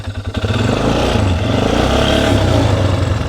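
A four-wheeler ATV in reverse gear: the engine sputters briefly, then settles into a loud, close, sustained rev with a throaty, pulsing tone.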